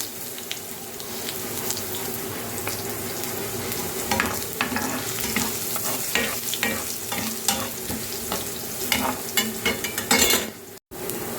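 Ginger sautés in a pan, giving a continuous sizzle broken by repeated scraping and clattering strokes that grow louder and busier toward the end.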